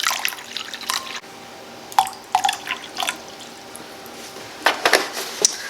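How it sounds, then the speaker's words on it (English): Distilled water is poured into a container, heard as close, intermittent splashes and trickling bursts separated by short quiet gaps, with no talking. "we're going to add 18 ounces of distilled water to our container"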